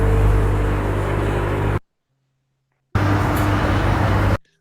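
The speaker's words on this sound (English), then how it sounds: "with traffic noises" AI-generated traffic noise in Adobe Firefly: a loud, dense rumble of passing cars and engines plays in two separate bursts with a short silence between them.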